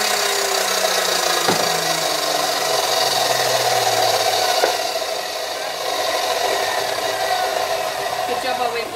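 Handsaw cutting through the wood of an old wooden box being upcycled into a drill storage tray, a steady continuous rasping stroke sound close by, filling the whole stretch with little pause.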